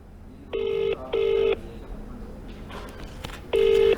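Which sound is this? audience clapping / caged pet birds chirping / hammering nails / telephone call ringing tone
telephone call ringing tone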